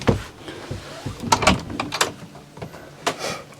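Door to the heads on a Fairline Phantom 43 motor yacht opening, a few sharp clicks and sliding knocks close by, with faint shuffling between.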